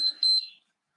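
A pair of short, high-pitched electronic timer beeps, close and clear, then silence.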